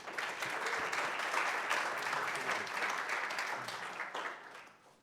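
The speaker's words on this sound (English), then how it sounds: "Please give him a round of applause." An audience at a UN General Assembly week philanthropy event applauds, producing a dense, even roar of many hands clapping that holds steady for several seconds and then tapers off at the end.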